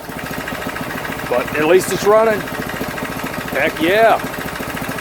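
Snow blower engine running after repair, a steady low rapid chug idling close by while someone speaks briefly over it twice.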